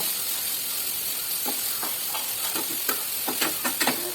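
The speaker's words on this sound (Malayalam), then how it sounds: "പിന്നെ ഉള്ളി പച്ചമുളക് എല്ലാം കൂടി ഇടുക കുറച്ച് നല്ലോണം വഴറ്റിയെടുക്കുക" Onions, green chillies and garlic sauté in a pan, giving a steady close sizzle with light stirring scrapes that grow a little more frequent toward the end.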